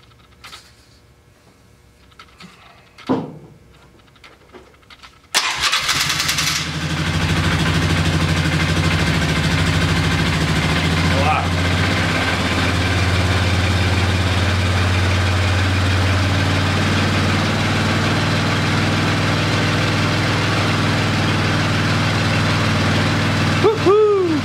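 A Polaris Sportsman 500 ATV engine cranks and catches abruptly, then settles into a steady, loud, close idle that runs on without a break, with a little handling noise before it starts.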